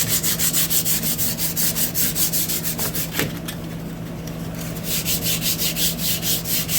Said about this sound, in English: This is a 150 grit sandpaper.